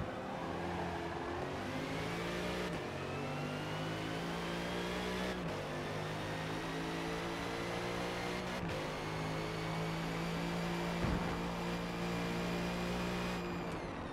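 A BMW race car in Forza roars steadily at high revs, with its engine note climbing through gears and sharp shift breaks every few seconds, loud and close throughout.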